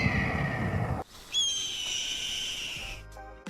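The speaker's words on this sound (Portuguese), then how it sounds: "Esses designers de som decidiram que o chamado do falcão era muito mais adequado para uma ave poderosa" A red-tailed hawk gives a single drawn-out, high, hoarse scream used as a film sound effect, loud and close, rising sharply then holding and fading over about two seconds after a burst of other noise.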